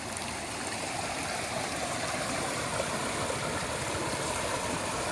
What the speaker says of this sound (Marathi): एक पहिला ओढा आपल्याला आलाय